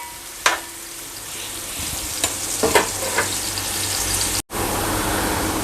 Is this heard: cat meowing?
no